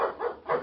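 Three quick, soft barks from a dog in an old-time radio play, muffled and slightly distant, with no talk over them.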